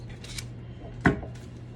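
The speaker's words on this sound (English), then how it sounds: "I'm going to get a knife and cut my 2 squares" A knife slicing through two squares, with a single sharp chop standing out over a steady low hum, close and clear.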